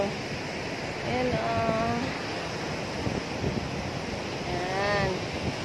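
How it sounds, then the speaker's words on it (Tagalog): Sea waves rolling in as a continuous broad wash of surf with wind rumble, while people talk briefly over it. "Ayun guys, dagat oh."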